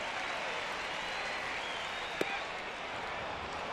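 A steady roar of a big crowd at a baseball game, Royals at Rangers, building ahead of a 2-2 pitch, with one sharp crack cutting through the continuous broadband noise.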